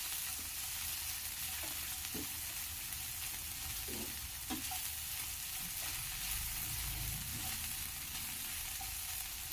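Sliced okra frying in a pan gives a steady, loud sizzle with occasional soft clinks and scrapes of stirring, continuous throughout with no voices.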